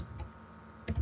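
Keystrokes on a computer keyboard while entering parameters in CAD software: a few soft taps near the start, then a quick, close burst of clattering keys at the end.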